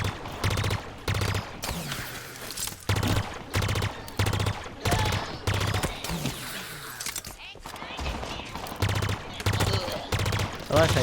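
Rapid bursts of automatic gunfire from Halo Infinite's campaign, loud repeated volleys with short gaps and mechanical weapon clatter, a voice speaking briefly between shots.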